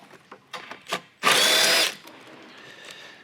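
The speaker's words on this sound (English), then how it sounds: "I'm going to go ahead and use my drill here." A power drill with a socket removing bolts: a few light clicks and handling knocks, then one loud, close burst of high whirring drill for about half a second before it stops, leaving quiet room noise.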